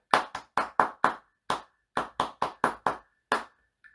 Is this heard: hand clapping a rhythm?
yes